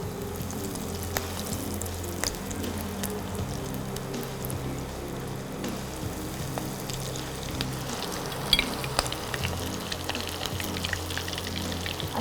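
Prawn cutlets sizzling steadily in hot oil in a Bengali home kitchen, a dense continuous crackle and spatter with occasional sharper pops, close and loud throughout.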